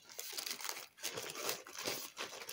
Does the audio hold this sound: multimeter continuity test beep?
no